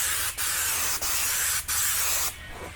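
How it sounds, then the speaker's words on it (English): An aerosol can of 3M General Trim Adhesive sprays in three long, loud hissing passes, each broken by a brief gap, and a fourth, softer burst trails off at the end. "which is a 3M General Trim Adhesive. And what I like to do is spray in a pattern straight across."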